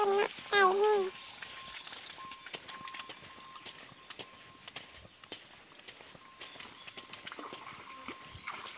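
Hooves clip-clop steadily as water buffalo are led walking across fields and through brush, soft and fairly distant, with a brief burst of voices and animal calls at the start and faint ambient chatter throughout.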